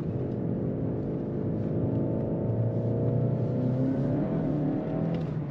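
A 2022 Skoda Octavia RS hybrid estate with 245 hp accelerates hard, a steady engine drone rising gradually in pitch, heard from inside the cabin at moderate level without talk.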